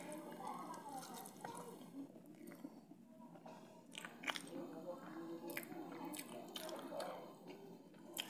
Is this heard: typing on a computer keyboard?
no